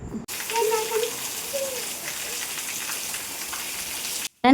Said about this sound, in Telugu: చూడండి అండి వర్షం ఎలా పడుతుందో